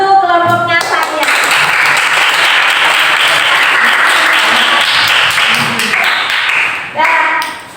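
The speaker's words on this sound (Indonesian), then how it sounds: "kita beri aplaus untuk kelompoknya Sania" A classroom applauds a student group: steady, dense clapping from many hands fills several seconds, with a voice heard briefly before it starts and again as it dies away.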